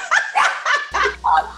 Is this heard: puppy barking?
yes